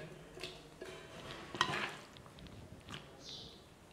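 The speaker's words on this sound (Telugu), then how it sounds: "ఇప్పుడు మరి కుండలో వేస్తున్నాను చూడండి." Marinated chicken goes into a clay pot with soft, quiet scraping and wet shuffling, plus a brief clink of a utensil against the pot, heard close and low with no talking.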